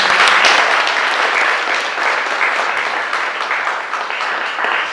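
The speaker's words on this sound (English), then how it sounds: "Give them a round of applause." At the launch of a mental-health charity initiative, an audience gives young performers a round of applause. The clapping is loud, dense and continuous and stays steady from start to finish with no voices over it.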